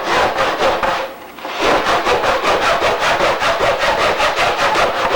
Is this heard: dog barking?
no